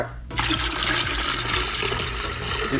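Liquid for homemade soursop wine made from concentrate, poured from a cooking pot into a pitcher, a steady, loud splashing stream that runs continuously and close by, with no talking over it.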